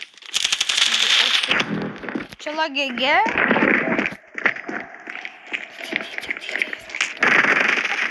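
Rapid bursts of video-game gunfire, crackling and close, repeated in clusters while people talk excitedly over it.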